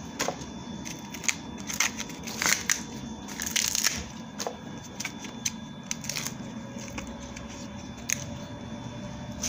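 Corn husks being pulled off fresh cobs while preparing boiled elotes, giving a steady run of close, crisp rustling, tearing and crackling with several louder rips partway through, and no voices.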